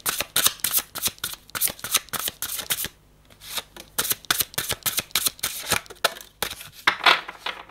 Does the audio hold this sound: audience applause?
no